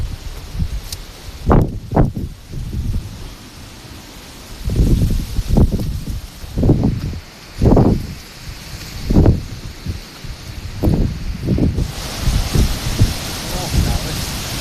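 Strong storm wind gusts roaring through forest trees, surging in repeated loud bursts with rustling leaves and creaking, with brief voices between the gusts.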